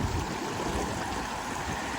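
Fast-flowing flood water in Punjab's Majha region, a loud, continuous rushing roar that stays steady throughout, with no voices.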